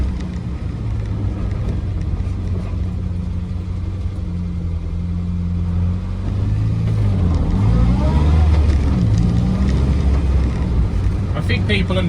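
A Morris Minor driven as a daily commuter car, its engine giving a steady low drone and road rumble from inside the cabin that swells as it accelerates, with someone talking over it.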